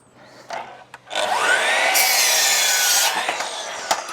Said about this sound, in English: So we're using the DeWalt miter saw.